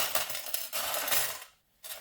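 Small metal key charms clink and jingle close by as they are handled and dropped, with bright metallic rattles, a brief quiet gap, then more clinking.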